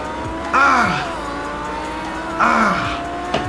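In Project Cars 2, a car's engine revs and shifts loudly as its tires squeal through a spin, the squeal rising twice in sharp bursts with the motor wailing underneath; a voice speaks faintly.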